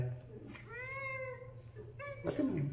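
A kitten gives two meows close by, a longer rising-and-falling one followed by a shorter one, while people talk and rustle around it indoors.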